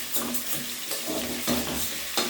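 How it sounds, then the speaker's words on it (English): Washed rice drained into a pot holding cooking oil, a short close burst of splashing, trickling water and crackling sizzle lasting a couple of seconds. "I had washed my rice, so what I'm just doing is just going to drain it inside"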